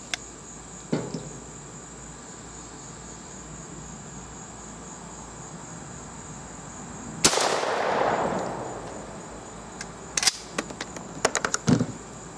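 A Remington Model 31 16-gauge pump shotgun with a Polychoke fires one loud, close shot outdoors that echoes and fades over a second, with crickets chirping steadily behind and some clicking handling noises afterward.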